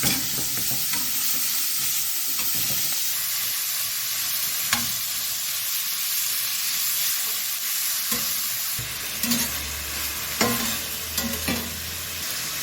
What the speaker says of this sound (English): We fry the beef in small batches, like that.